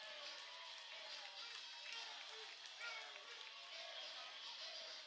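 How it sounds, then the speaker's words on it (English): Baseball crowd at a Sheboygan A's vs. Appleton Legends game reacting to a home run, a distant, steady wash of cheering and clapping from the stands, faint and continuous without distinct peaks. "That gets the crowd going."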